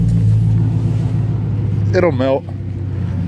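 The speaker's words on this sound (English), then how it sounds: "99 Z28 with the SLP Loudmouth 1 exhaust." A 1999 Chevrolet Camaro Z28 with an LS1 V8 and SLP Loudmouth 1 exhaust idles with a steady low rumble in cold, snowy weather, while someone talks close by over it.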